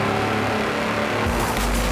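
A tractor on 54-inch mud tyres racing at high speed in Forza Horizon 4, its engine droning loud and steady, then surging and rising in pitch near the end.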